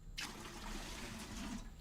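Rainwater collected in rooftop buckets poured through a water filter outdoors, a steady splashing, trickling stream that starts abruptly and continues close and fairly loud.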